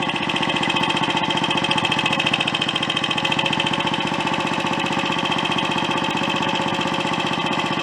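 A Royal Enfield Olympic 250 motorcycle engine runs with a steady, fast rhythmic putter, loud and close throughout, holding a constant drone without pauses, with lag on the overrun.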